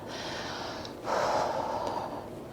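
A deep breath drawn during a slow yoga practice, a soft airy inhale followed by a stronger, fuller breath that swells and holds, close and alone with no talking.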